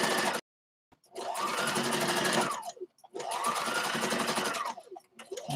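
A sewing machine back stitching stretchy mask fabric, running in two loud, close bursts that each wind up and wind down, separated by short silent pauses, with no voices.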